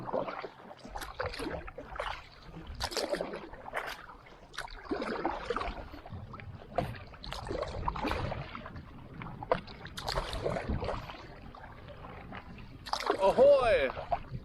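A paddle dips and pulls through lake water in a rhythmic series of splashes and swishes, close by, with voices chatting now and then during the boat trip.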